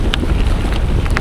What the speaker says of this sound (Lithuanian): Ir vėjas pakilo